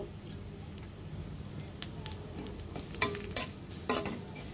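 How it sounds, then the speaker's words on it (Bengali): Ground panch phoron five-spice fries gently in oil over low heat, a soft, steady sizzle broken by a few scraping stirs near the end, with quiet voices in the background. "এখন আমরা বেটে রাখা 5 ফোড়নগুলো দিয়ে দিব।"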